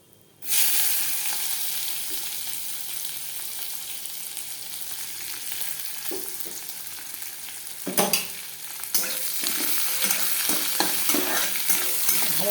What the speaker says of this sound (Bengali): এই যে কুচানো পেঁয়াজটা দিয়ে দেবো।